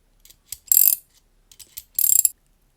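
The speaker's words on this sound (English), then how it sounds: "So this is how the ratcheting mechanism works." NexTool W4 ratcheting adjustable wrench working its mechanism in two short bursts of rapid clicking, close and crisp, separated by a pause with a few isolated ticks.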